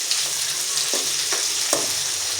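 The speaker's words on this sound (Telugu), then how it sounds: "ఆనియన్ కొంచెం ఫ్రై కాగానే కరివేపాకు వేసుకోండి. కొంచెం పుదీనా వేసుకోండి." Onion frying in oil with curry leaves and mint crackles in a bright, steady sizzle, close up, with a few sharper pops and stirring knocks. No talking.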